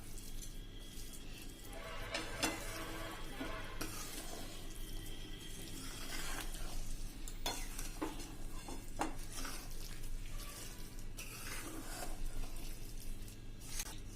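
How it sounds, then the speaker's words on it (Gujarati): A spoon scrapes and clinks against a pan while stirring a thick Kutchi adadiya mixture, giving a close, steady run of rustling scrapes and light metallic knocks in a kitchen. "હવે આ બધું આપણે સરસ મિક્સ કરી દેશું."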